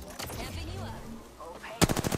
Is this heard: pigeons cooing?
no